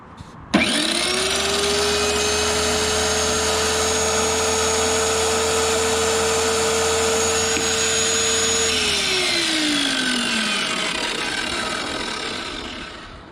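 A Drill Master tile saw runs loud and steady after a sharp start, its motor whine holding an even pitch for about eight seconds before dropping away as it spins down.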